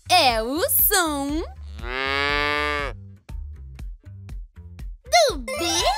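Cartoon-style calf mooing, several drawn-out bellowing calls with a rising and falling pitch, broken by short bright chimes and clicks, loud and close.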